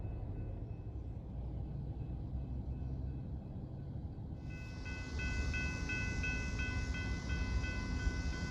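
A low, steady rumble of a passing train in Texas with rolling wheel noise, joined midway by a high metallic whine that holds to the end.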